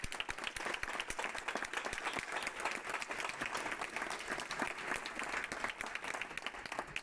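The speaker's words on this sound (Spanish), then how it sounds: "Este aplauso va por vosotras" Dense, sustained applause from a large audience at an award ceremony for a family-friendly company prize, steady and full throughout with no pauses.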